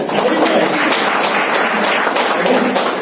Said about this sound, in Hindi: इनके लिए ताली बजा हुआ